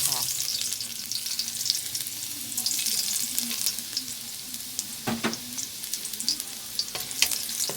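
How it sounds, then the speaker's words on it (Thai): Garlic sizzles and crackles steadily in a hot pan while being stir-fried, with close scraping stirs and occasional sharper pops over a constant frying hiss. "มาลงมือผัดเลยจ้า ใส่กระเทียมลงไปเลย"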